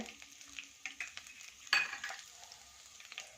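Chopped curry leaves hit a hot pan of oil and frying, sizzling softly with small crackles and a few utensil clinks, fairly quiet and close by, with no voices.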